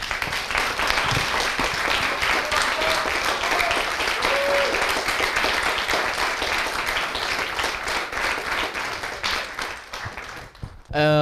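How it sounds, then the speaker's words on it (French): Audience applause at the final of a student eloquence contest in Le Mans, steady sustained clapping filling the room for several seconds before fading, with a voice cutting in at the very end. "Je pense qu'on peut les applaudir pour tout ce qu'ils font."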